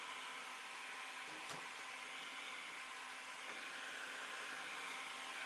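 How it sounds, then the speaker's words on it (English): A heat gun running at middle temperature blows a steady, even airy hiss while warming a plate, holding constant throughout with no voices. "I have my heat gun on middle temperature"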